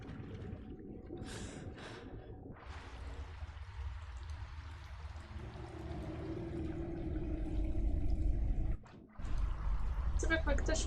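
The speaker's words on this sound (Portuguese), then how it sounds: "Você vê como é que tá chovendo dentro de uma caverna." Steady rain patter and falling water inside a cave in the video game Skyrim, a continuous wash that swells louder toward the end with a brief dropout, under faint talk.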